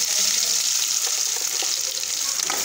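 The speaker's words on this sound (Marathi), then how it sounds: "जिरे झाले की जे आपण वाटून घेतलं होतं ते लसूण टाकून घेऊ" Chopped garlic sizzles steadily in hot oil with cumin, a bright, continuous frying crackle close to the pan while a tiffin-style moong sprout curry is cooked.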